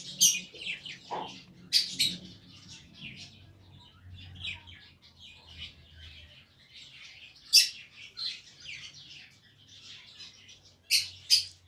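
Budgerigar chicks and a parent bird chirping in a series of sharp, high tweets and squeaks, close and fairly quiet, with brief pauses between calls.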